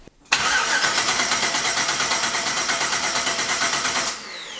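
A twin-turbo Ford Mustang with a Holley setup cranks with the key and fires up, settling into a loud, steady, rapidly pulsing idle for several seconds before cutting back to a quieter rumble at the end.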